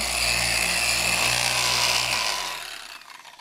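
Power buffer with a black pad and very fine number 3 polish running on Kawasaki motorcycle paint, a steady close whirring drone that winds down and stops near the end.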